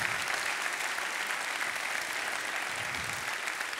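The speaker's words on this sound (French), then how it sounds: "vous pouvez applaudir David Marcus." Audience applause fills a conference hall after an interview, a steady dense wash of clapping that holds loud and even throughout without pause.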